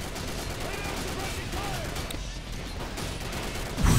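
A dense, continuous roar of battle gunfire from the Men of War video game, including shotgun fire, during a zombie-invasion defence mission, with a louder burst right at the end and a voice faintly underneath.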